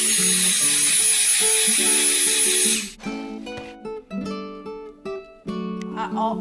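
Electric mixer beating banana bread batter, a loud continuous buzzing whir for about three seconds, then a few shorter stop-start bursts of mixing.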